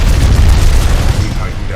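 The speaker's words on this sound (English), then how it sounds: "Test van explodes." A test van blows up in the video game Titanfall 2, a loud, deep rumbling boom that fills the whole moment and fades slightly near the end.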